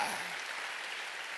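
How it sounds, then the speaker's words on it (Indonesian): A church congregation applauds during a sermon, a steady wash of clapping heard faintly and at some distance for about a second. "Berikan tepuk tangan bagi Allah kita."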